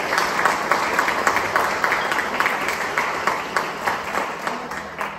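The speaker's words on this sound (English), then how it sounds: "So give them a big round of applause." Audience at a workforce symposium at The Treasury breaks into sustained applause, a dense, even wash of many hands clapping close and loud for several seconds with no voices over it.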